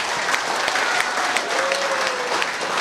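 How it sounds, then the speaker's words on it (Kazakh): Wedding guests at a Kazakh wedding celebration applaud steadily, a dense, continuous clapping from a crowd that fills the whole stretch at an even level, without talk. "Сонда шапалақ ұрайық"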